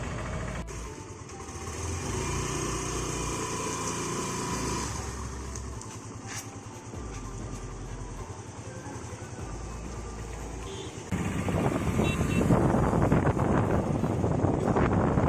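A motor scooter being ridden through Bhubaneswar, India, a steady engine drone with wind buffeting the microphone that grows louder and rougher toward the end.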